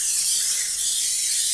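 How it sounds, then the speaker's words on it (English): Cooking oil sprayed lightly onto an air fryer tray, a steady close hiss lasting just over a second with no talk. "Just going to lightly spray"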